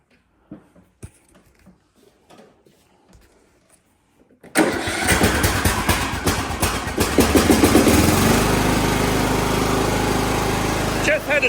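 Craftsman LT 2000 lawn tractor engine, a 2005 model, heavily choked, cranks and catches after a few quiet knocks and handling sounds, then runs loudly and steadily up close with a rough idle.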